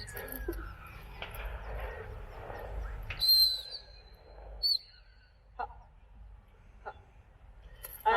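A few sharp, high dog training drop whistle blasts, short and widely spaced, over outdoor rustling and faint voices at a game fair demonstration.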